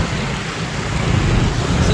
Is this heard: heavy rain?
yes